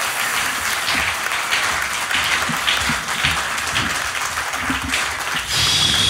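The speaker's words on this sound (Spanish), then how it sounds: "¡Un fuerte aplauso!" Loud, sustained audience applause fills a live Sunday comedy talk show, dense and steady throughout with a brief dip near the end.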